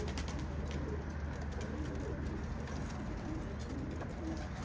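Pigeons coo softly and repeatedly over a steady background hum, their low throaty calls blending together at close range.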